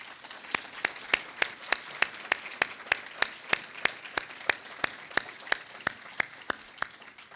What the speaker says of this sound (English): Would you all please stand for a round of applause?